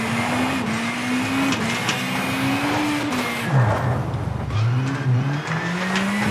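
A rally car engine in V-Rally 4 runs at full throttle through a corner, a loud steady drone that dips briefly as revs drop, then climbs again.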